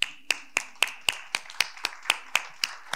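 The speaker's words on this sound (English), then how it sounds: "You got a good clap for this." Clapping at a mayor's town hall meeting for the city manager, heard as about a dozen crisp, evenly spaced claps in a steady beat, fairly faint and with no talking over them.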